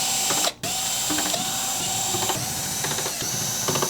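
Screws are backed out of the rear cover of a Synology DS1813+ NAS with a ratcheting driver, a continuous close clicking ratchet with one brief pause.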